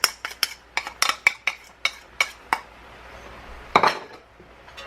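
Utensils clink and scrape against a pan while sauce is added and Singapore noodles are stirred, a run of sharp metallic taps in quick irregular succession, then a pause and a final cluster of louder clatters.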